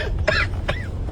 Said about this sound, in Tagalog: Hindi na nawala-wala yung ubo mo.